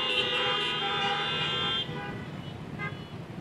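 Car horns honk in a sustained chorus of loud, bright blasts for under two seconds, then drop to softer scattered toots over a low traffic rumble.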